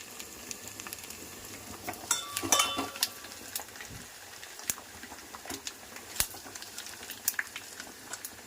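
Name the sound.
tempering spices frying in oil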